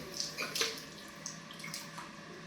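Water splashes and trickles while a home fish tank's water is changed, faint close sloshing and dripping with a few brighter splashes over a low hum.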